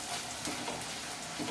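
Bhature sizzle and bubble in hot oil, a steady, close frying hiss with soft crackling and no talking.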